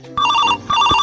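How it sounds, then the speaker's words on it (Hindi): A telephone rings loudly and close in two electronic trilling bursts separated by a short gap, set in a comedic village scene. "फोन उठाइए ना।"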